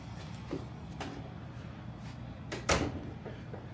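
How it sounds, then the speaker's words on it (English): An interior door in a home being closed, with a couple of soft bumps and then one distinct thud as it shuts, heard close against a steady low hum in a quiet room. "so we will close the door"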